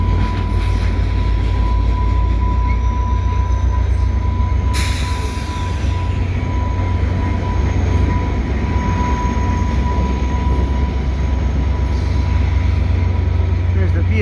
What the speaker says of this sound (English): There's the Via train leaving.